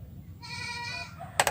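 Goats bleat on a small village farm kept with three does and four kids, one sustained wavering bleat up close, followed by a couple of sharp knocks at the end.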